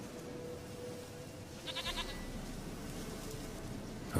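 A goat in The Witcher game gives a short burst of bleats midway, a quick quavering cry standing out over a steady background hum.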